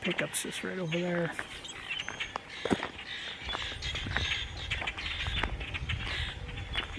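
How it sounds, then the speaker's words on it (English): Blackbirds call from trees before dawn at a truck camping and turkey hunting site, short chirps mixed with footsteps in brush and a person talking over them. "There's some blackbirds in the trees."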